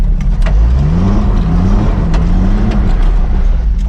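A Nissan Hardbody pickup truck on big tires drives along, its engine a steady loud low drone with slight rises in pitch, heard from inside the cab.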